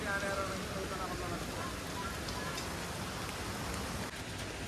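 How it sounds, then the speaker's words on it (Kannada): Heavy monsoon rain pours at Kollur, a dense, steady hiss of falling water that fills the whole clip, fairly faint overall and unbroken. "ಫುಲ್ ಮಳೆ ಐತ್ರಿ."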